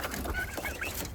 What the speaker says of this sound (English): Here are my turkins.